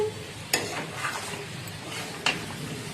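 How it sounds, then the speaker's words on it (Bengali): Hot mutton pieces tipped into a pressure cooker, with two sharp metallic clanks of a utensil against the pot over a low background sizzle and scraping. "গরম গরম মাংস প্রেসার কুকারে চলে যাচ্ছে।"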